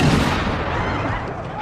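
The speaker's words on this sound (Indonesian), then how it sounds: "suara tembakan terdengar" A heavy gunshot from a film, Kingdom of the Planet of the Apes, lands as a loud boom at the start and trails into a long rumbling decay, with a narrator's voice over it.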